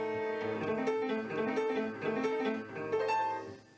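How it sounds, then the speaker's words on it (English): Keyboard sounding an augmented fourth interval, a tense, clashing pair of notes struck repeatedly in a short, uneven sequence at moderate volume, with no talking. "Okay, an augmented fourth."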